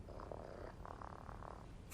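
A pet cat purring in the video game American Arcadia, a soft, steady rumbling purr heard close and alone.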